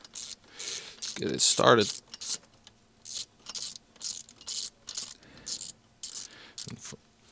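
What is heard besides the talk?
torque wrench tightening bolt on Alpine A290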